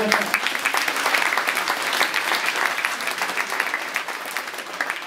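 Audience applause at a judo club awards ceremony for a championship-winning judoka, a dense, even clapping that holds steady for several seconds.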